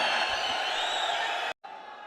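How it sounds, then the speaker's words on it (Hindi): A large crowd in a lit-up stadium cheers and applauds to welcome a chief minister, a loud sustained roar of claps and shouts that cuts out briefly near the end and then resumes. "हम सबको जोरदार तालियों से आइए स्वागत करें।"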